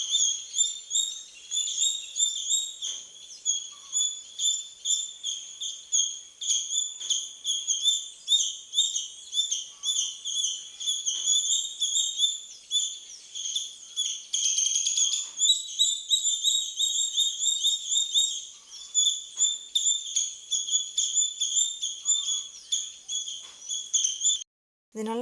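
Morning birds chirp loudly nearby, sharp high twittering in rapid repeated bursts that continue almost without pause, with a brief lull near the end and no voices.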